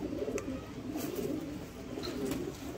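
Steady low cooing from Rampuri and Pakistani breed pigeons, close and continuous, with a few faint higher chirps on top and no voices.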